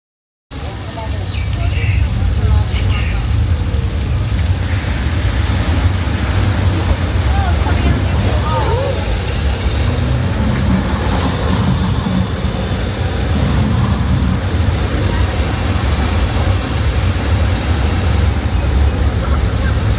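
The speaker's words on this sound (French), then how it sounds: "ils ont voulu nous montrer comment ils reproduisent en fait les effets de pluie, de torrent" Artificial rain and rushing torrent effects from a special-effects demonstration at Universal Studios, a loud, steady roar of pouring water that fills the whole stretch without letup.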